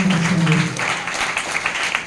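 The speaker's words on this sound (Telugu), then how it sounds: "ఎంతమంది కరెక్ట్గా చప్పట్లో కొట్టి దేవుడు నామమున" A church congregation at a second-Saturday worship service in Gollavilli claps hands in praise, a dense, steady wash of applause that opens under a brief held tone.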